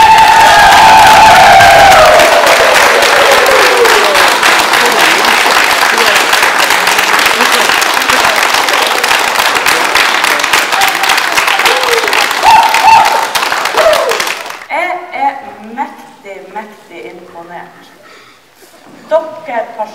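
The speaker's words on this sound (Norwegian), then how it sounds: "gi en stor applaus til alle de flotte elevene dere!" A large crowd of students and teachers at an innovation camp in Nordland claps and cheers loudly for about fourteen seconds, with whoops throughout. The noise cuts off and a speaker talks.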